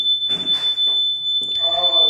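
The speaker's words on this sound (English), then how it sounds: "Of course, you would set off an alarm." A home alarm sounds a steady, shrill, high-pitched tone that runs continuously while people talk and move over it.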